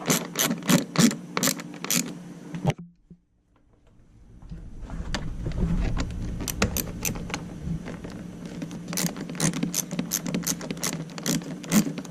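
A ratchet tightens bolts on the air filter housing of a 2014 BMW R1200GS motorcycle, rapid bursts of sharp clicking close by, a pause with a low rumble, then quicker repeated clicking strokes.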